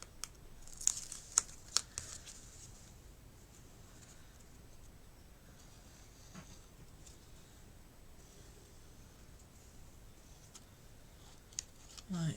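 Paper or card is folded and creased for a craft project, giving sharp crinkles and crisp clicks early on, then softer sporadic rustling nearby in a quiet room.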